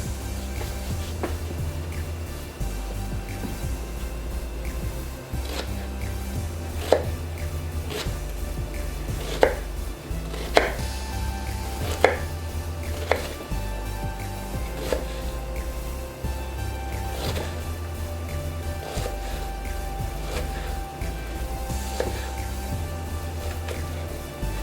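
Steady knife chopping of an onion on a cutting board while preparing hot dog toppings, a continuous rhythmic run of close cuts with a few sharper louder strikes near the middle, no talking.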